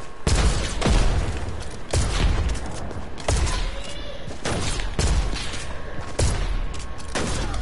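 Sniper rifle shots in a video game fire in a steady rhythm about once a second, each a loud sharp crack with a booming low tail, over continuous game background noise.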